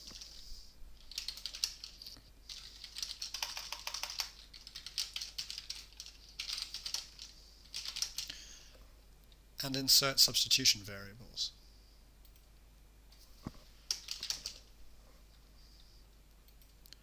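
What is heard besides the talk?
typing text on a computer keyboard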